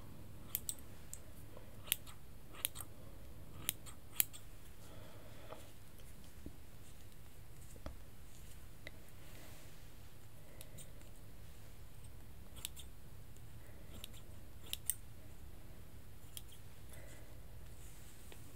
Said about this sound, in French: J'en prends mon ciseau. Je vais essayer de couper sur le côté en fait.